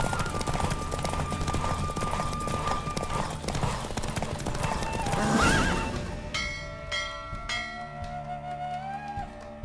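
In The Witcher 3 game, horses whinny and hooves clatter at speed over a busy orchestral score, with a bell-like chime and sustained tones rising toward the end.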